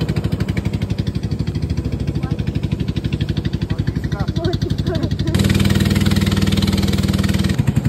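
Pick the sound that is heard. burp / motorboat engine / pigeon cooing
motorboat engine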